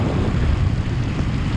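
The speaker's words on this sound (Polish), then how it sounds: "Wieje, pada." Wind and rain in misty, dark weather near Bali's Ubud and Beratan area, heard as a dense, steady roar of gusting wind buffeting close up, with no voices.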